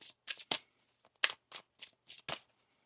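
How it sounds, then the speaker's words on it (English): Tarot cards being shuffled in a few short, crisp bursts with brief pauses between, close and fairly quiet, with no talking. "One more shuffle here."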